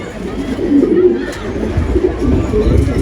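Pigeons of a hard-to-keep breed coo steadily in a loft, the soft low calls repeating over a continuous rustle of nearby birds.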